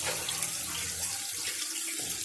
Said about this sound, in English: I don't know why you're draining the water off.